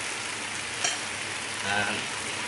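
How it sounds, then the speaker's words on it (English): Tomato paste being stirred into a wok of sizzling pork chops, a steady close frying hiss with a couple of brief scraping swells from the utensil. "Give that quick stir in"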